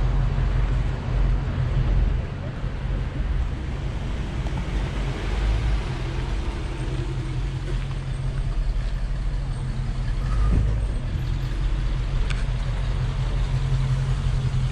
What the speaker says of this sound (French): Voilà, Mustang qui arrive.